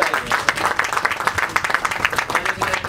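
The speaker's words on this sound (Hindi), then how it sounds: "एक जोरदार तालियां।" Steady, moderately loud crowd applause at the trailer launch event for the film Sanki Daroga, a continuous patter of many hands clapping for about three seconds with little else over it.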